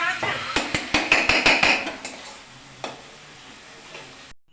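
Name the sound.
stirring spices and boiled potato in a pan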